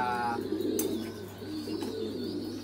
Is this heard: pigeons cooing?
yes